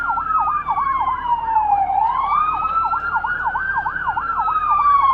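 Police car sirens wailing loud and close, one rapid yelp pattern layered over a slower rising and falling wail, continuous throughout with no talk.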